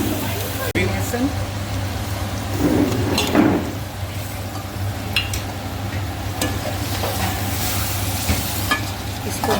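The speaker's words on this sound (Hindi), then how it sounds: "इसको वाइट होने तक ज़रा फ्राई करते रहेंगे।" Chicken karahi with garlic sizzles in a pan while a spoon stirs and scrapes through it, a steady close frying hiss with intermittent scraping strokes, and a voice talking over it.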